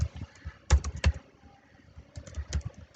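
Code being typed on a computer keyboard: close, quiet clusters of sharp key clicks in an uneven rhythm, with short pauses between bursts and no voice.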